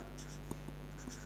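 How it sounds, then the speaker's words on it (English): Writing on a board during a quantum mechanics lecture produces a few soft taps and strokes over a steady room hum, brief and quiet. "let us write the Heisenberg time evolution operator"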